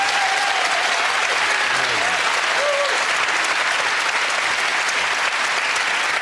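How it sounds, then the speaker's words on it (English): A studio audience at a TV panel show breaks into loud, sustained applause that holds steady throughout, with brief voices audible beneath it early on. "Round of applause"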